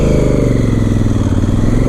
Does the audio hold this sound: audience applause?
no